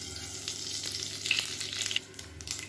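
Mustard seeds fry in hot oil in a kadai, a faint crackling sizzle with scattered small pops and light stirring, close by and without speech.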